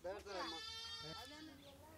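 Goats bleating somewhere in a rural African village setting, a wavering, harmonic cry rising and falling over about two seconds, fairly close and steady in loudness, with no other sounds standing out.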